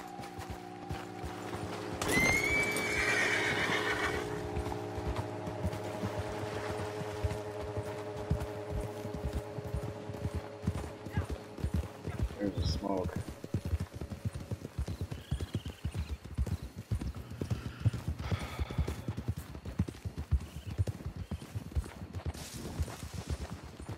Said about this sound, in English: Oh, I'm gonna get off my horse right here.